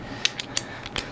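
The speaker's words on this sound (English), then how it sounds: "Just being cautious by using a different torque wrench" Torque wrench on the cylinder head of a 2006 R53 Mini Cooper S, giving a few sharp, faint mechanical clicks spaced irregularly over about a second, with no talk.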